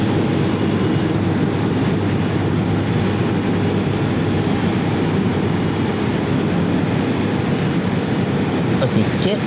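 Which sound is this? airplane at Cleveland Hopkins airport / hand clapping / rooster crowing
airplane at Cleveland Hopkins airport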